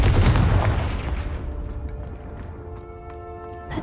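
A Confringo spell explosion in Hogwarts Legacy, a single loud close blast that rumbles and fades over a few seconds, leaving faint ringing tones behind.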